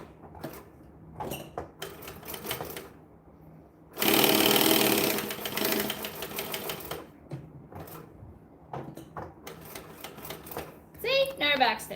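Sewing machine stitching a bag without backstitching, short whirring bursts followed by a longer sustained run of rapid stitching, with talk in between.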